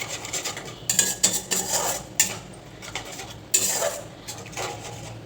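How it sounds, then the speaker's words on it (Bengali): Fish-curry masala paste fried and stirred in a pan, a spoon scraping and knocking the metal pan in a steady, irregular rhythm of rasping strokes and clinks, close up, with no voices. "চলো মশলাটা একটু ভালো করে কষুক"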